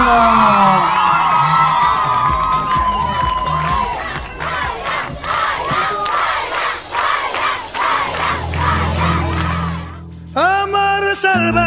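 A crowd cheers, whoops and shouts loudly to welcome a singer at a live show, a dense roar of voices that fades briefly near the end before music starts.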